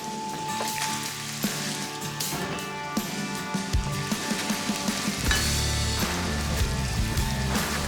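Fat and onions sizzle and caramelize in a hot pan alongside Bighorn Bison meat, a steady crackling hiss with scattered pops and spatters, close and fairly loud throughout, no voices.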